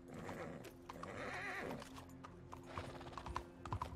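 A horse in Red Dead Redemption 2 neighs and whinnies, followed by clip-clopping hooves as it runs, close and moderately loud amid other game sounds.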